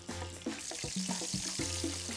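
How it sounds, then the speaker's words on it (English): Steady, crackling sizzle of gluten-free chicken frying in hot oil, close up, with a few soft clinks and low tonal hum underneath. "So you always want to lay anything that you're frying away from you."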